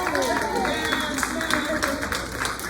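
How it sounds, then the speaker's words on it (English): Scattered clapping and light applause from an audience at a community baby shower pageant event, moderately loud and steady, mixed with voices talking over it. "Clap for that, y'all."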